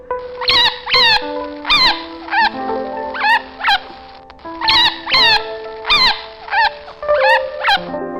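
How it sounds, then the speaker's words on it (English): A chinchilla gives sharp, high squeaks and chirps in quick clusters, repeating throughout at close range over a faint steady tonal background. "Chinchilla."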